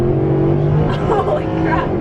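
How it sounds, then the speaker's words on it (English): Mercedes-Benz SLS AMG accelerating onto a freeway, heard from inside the car: a loud, sustained engine drone with a rising tone, steady throughout, with people talking over it. "So we're getting back on the freeway in the SLS."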